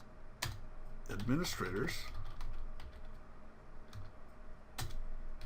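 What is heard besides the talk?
typing a command on a computer keyboard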